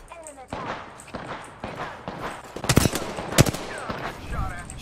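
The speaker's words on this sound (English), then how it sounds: "We're getting shot by both squads right now. Yeah, the other squad's firing at us." Enemy squads fire on the player in Apex Legends, with sharp gunshot bursts and rapid volleys that grow louder toward the middle, interspersed with voices.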